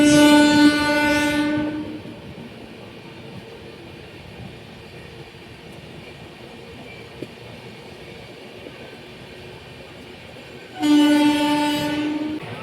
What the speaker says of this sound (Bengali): আমাদের ট্রেন ছেড়ে দিচ্ছে পরবর্তী স্টেশন